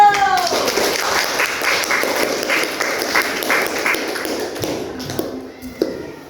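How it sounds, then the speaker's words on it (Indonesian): A group at an on-the-job emotion-management training session claps in quick, fairly rhythmic bursts that thin out toward the end, with scattered thumps and some chatter in the room. "Tepuk tangan dulu."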